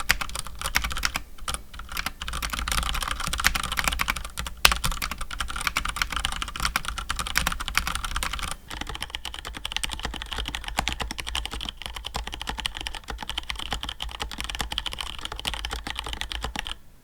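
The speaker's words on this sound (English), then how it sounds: "the stabilizers in the keyboard are factory lubed, which helps it to feel and sound better" Rapid, continuous clacking of keys on a mechanical keyboard with factory-lubed stabilizers, close and clear, with a steady typing rhythm and brief pauses.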